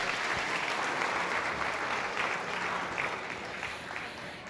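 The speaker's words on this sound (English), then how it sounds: "let's give the 2 of them a big round of applause because it's well deserved." Crowd applause at a swine showmanship show, a dense, even wash of clapping from a sizable audience heard at moderate distance, steady for several seconds before easing slightly.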